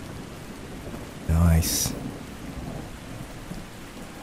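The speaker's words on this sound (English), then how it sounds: "Oh, that thunder." A sharp thunder crack in the video game ARK: Survival Ascended, loud and sudden, then rolling off over steady rainfall, with a brief spoken word nearby.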